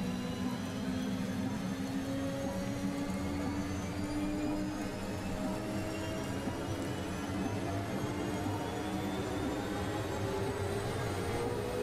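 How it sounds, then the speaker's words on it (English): A steady, continuous tank turbine engine whine from Assetto Corsa, rising tonal pitches over a constant low roar, loud and unbroken throughout with no talking. "turbine engines and that they've recreated with these are stunning"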